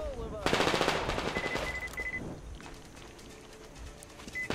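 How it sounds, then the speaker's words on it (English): Assault rifle fire in the video game Metro Exodus rattles out in a rapid automatic burst, loud and close, then trails off into scattered lighter shots and game sounds. "that assault rifle's not shooting straight anymore"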